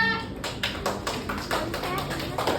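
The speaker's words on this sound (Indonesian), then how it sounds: "Tepuk tangan dulu untuk Kalista." Pupils in a classroom clap for a classmate, a short burst of close, uneven hand claps with a voice speaking over the start.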